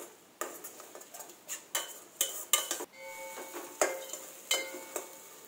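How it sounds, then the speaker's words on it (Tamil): Spiced masala sautéed in oil on a low flame, stirred with a utensil that clinks and scrapes against the pan in uneven, close strokes, with no talk. "அடுப்பை லோ ஃப்ளேமில் வச்சு எண்ணெயில் நல்லா வதக்கி விட்டுருங்க"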